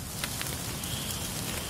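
Mixed snow and rain falling steadily at a campsite on the Appalachian Trail in below-freezing cold, a soft continuous patter with a few sharper drop hits, alone without voices.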